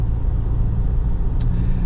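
Cabin of a 2025 JAC T9 pickup cruising along a winding country road: a loud, steady low rumble of engine and tyre noise, with a brief faint tick partway through and no talk.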